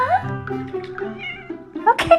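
A cat meows repeatedly at close range in a loud, drawn-out, anxious tone that rises and falls, ending in a sharper cry.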